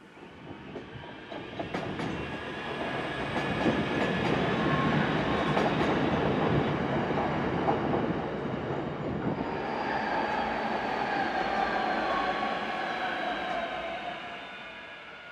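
A passenger train hauled by locomotive DL 9129 as train 263S from Palmerston North rumbles past near Takapu Road outside Wellington, New Zealand. Its roar swells, holds steadily and then eases off over several seconds, with no voices.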